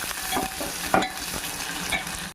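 Onion and green chilli pieces frying in hot oil with mustard seeds, heard as a steady close sizzle with a few sharper crackles and stirring scrapes.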